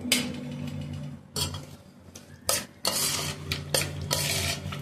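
Red chili pickle mixture being stirred with lemon juice in a kitchen, giving close, intermittent scraping and clinking bursts of utensil against the bowl, with short pauses between strokes.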